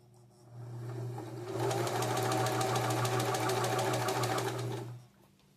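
A New Home SS-2015 sewing machine stitches fabric: a motor hum rises, then a fast, even needle clatter runs for about three seconds before winding down, close and loud with no talking.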